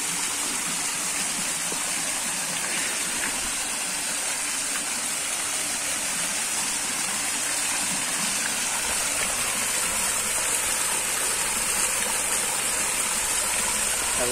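Water from a home swimming pool's waterfall cascade pours steadily into the pool, making a continuous, even rushing splash with no breaks from start to finish.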